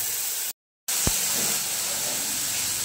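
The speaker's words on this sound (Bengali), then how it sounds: "একটু জল দিয়ে দেবো, যাতে মশলাটা পুড়ে না যায়।" Water poured into a pan of frying spice masala with green chilli and chilli powder for aloo dum sets off a loud, steady sizzling hiss, broken by one short silent gap.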